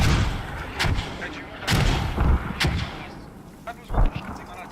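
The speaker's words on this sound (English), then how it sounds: "They're dropping mortars right on it." Mortar rounds and gunfire thud and boom in a competitive multiplayer shooter match, several heavy impacts spaced irregularly over a low rumble, with faint voices underneath.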